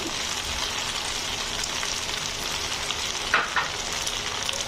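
Chicken popcorn and capsicum sizzle steadily in a hot pan of oil while cooking for pasta, a continuous loud frying hiss with a couple of brief spatters near the end and no talking.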